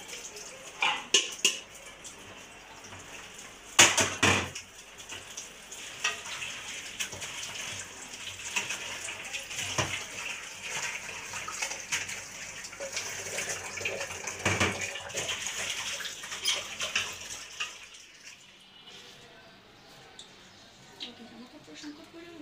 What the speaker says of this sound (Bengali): শাকগুলি ধুয়ে একটু পরিষ্কার করে নেব